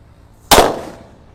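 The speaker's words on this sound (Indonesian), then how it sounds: "Kalau ini mercon disco yang sudah dibuntel." A single sharp, loud bang from a paper-wrapped disco firecracker bursts out of near silence, then fades quickly with a short crackling tail.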